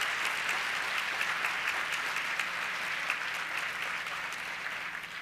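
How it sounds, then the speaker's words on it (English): Sustained applause from an audience at an awards ceremony fills the room, steady and dense with many hands clapping throughout, and no voices on top. "A big round of applause for the people that made this happen."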